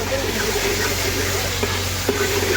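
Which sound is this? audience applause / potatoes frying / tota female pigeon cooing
potatoes frying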